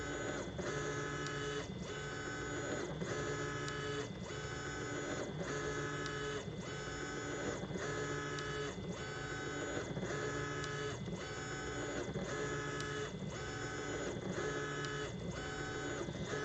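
An EasyThreeD K1 3D printer runs through its print, its stepper motors whining in repeating tonal patterns with regular stops and starts, steady and close, with no voices.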